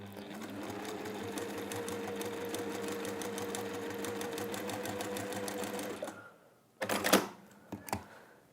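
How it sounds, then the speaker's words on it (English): Sewing machine running steadily as it stitches along a marked diagonal line on fabric, a continuous close whir for about six seconds, then stopping, followed by a couple of brief handling sounds. "You might want to pin it before you take it to the machine and then it doesn't move."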